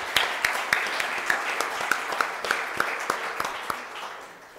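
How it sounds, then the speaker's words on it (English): Rhythmic group clapping at a congregation gathering, evenly spaced claps in a steady beat with a murmur of voices underneath, gradually fading toward the end. "one more round of applause for Tony and his amazing service"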